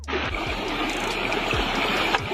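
Water pours steadily from a homemade artificial waterfall, a close, continuous rushing and splashing with a few soft low thuds and no voices.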